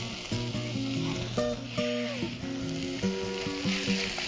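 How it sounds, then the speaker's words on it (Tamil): Ginger garlic paste sautes in a pan, a continuous sizzle running beneath prominent tonal music that dominates the mix. "இஞ்சி பூண்டு பேஸ்ட் போட்டு நல்லா வதக்கியாச்சு"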